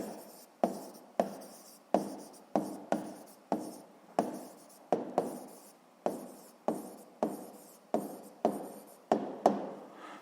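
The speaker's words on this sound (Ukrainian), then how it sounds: "Записуємо відповідь" Pen or chalk writing an answer by hand during a physics lesson, a steady series of close scratching strokes with sharp taps at each new stroke, heard alone.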